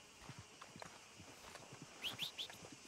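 Horse hooves clip-clop at a walk in Red Dead Redemption 2, faint and soft, a steady light rhythm of steps with a few brief high chirps near the end.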